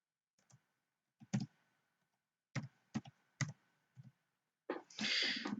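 Someone types a date on a computer keyboard, with separate sharp key clicks in an irregular rhythm, close and clear against silence, then a denser burst of noise at the end.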